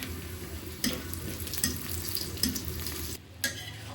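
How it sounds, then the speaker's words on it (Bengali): Fish bhuna sizzles steadily in a pan on the stove, punctuated by several sharp scrapes and clacks of a stirring utensil, close up and without any talk. "এখানে মাছের ভুনাটা হচ্ছে"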